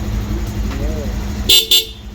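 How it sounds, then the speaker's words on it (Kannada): A voice speaks over an idling engine during a vehicle check, then a car horn gives two short, loud honks close by. "ಹಾರ್ನು"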